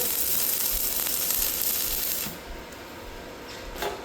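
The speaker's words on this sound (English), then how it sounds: "I'm welding with a computer." A homemade welding machine built from a 2000s office PC arc-welding, a steady dense crackling sizzle for about two seconds, then the arc stops, leaving a faint hiss and a small click.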